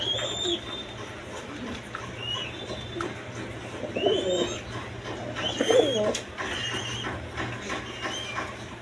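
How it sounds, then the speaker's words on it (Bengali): Several pigeons coo in a bird shop as a steady background murmur, with a couple of louder coos standing out midway and a constant low hum underneath. "এখানে এক পেয়ার কবুতর আছে"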